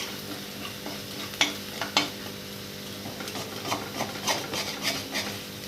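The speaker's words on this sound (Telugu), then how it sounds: "అల్లం వెల్లుల్లిపాయ పేస్ట్, ఉప్పు, ఉల్లిపాయ పేస్ట్ ఇది మొత్తం వేగిపోయింది మంచిగా" Ginger, garlic and onion paste with salt fries in oil in a pan over medium flame, a soft continuous sizzle broken by repeated scraping clinks of a spoon stirring against the pan.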